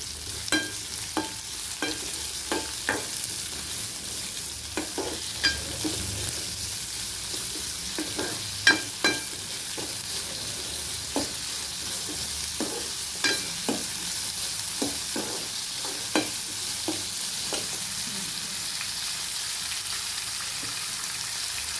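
Onions frying in oil with cumin and curry leaves for capsicum poriyal, a steady sizzle broken by repeated sharp scrapes and clacks of a spoon stirring the pan, close and even throughout.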